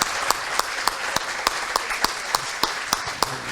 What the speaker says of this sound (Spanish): un fuerte aplauso para Rita, por favor.